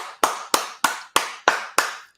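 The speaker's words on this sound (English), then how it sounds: "A round of applause for you as well." A single person claps six times in a slow, even rhythm, each sharp, close clap ringing briefly before the next, with no talk.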